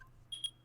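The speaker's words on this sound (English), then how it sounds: "Beep." A short electronic phone beep from the game Phoenix Wright: Ace Attorney, a quick pair of high bleeps over a faint low hum.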